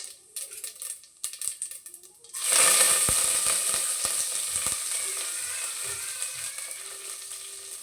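Cumin seeds and curry leaves go into hot oil with popped mustard seeds for a tempering for vegetable sambar, and a loud, close, steady sizzle erupts, then gradually eases with scattered crackles after a few quieter pops.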